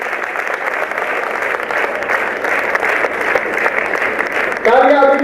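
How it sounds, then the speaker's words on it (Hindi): Audience at a Hindi poetry recital applauds in a dense, steady wash of clapping that holds for about five seconds; a voice starts speaking over it at the very end. "तालियां अभी भी कम लग रही है"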